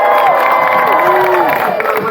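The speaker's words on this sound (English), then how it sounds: "everybody up here in these stands, you're going to clap and cheer for the dog wearing the red bandana" A state fair grandstand audience at a Texas stunt dog show claps and cheers loudly for the red-bandana dog team, a continuous roar of mixed voices and applause with a voice calling out over it.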